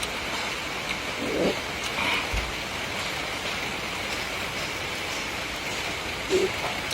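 Steady rain makes a dense, even hiss throughout, with a couple of faint soft thuds under it and no voices.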